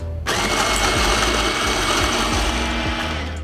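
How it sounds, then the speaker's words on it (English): A Fellow Opus burr grinder grinds coffee beans for a Chemex pour-over, a steady loud mechanical whir that starts abruptly and runs continuously with a rattling texture. "put that directly into the grinder. I can then press grind."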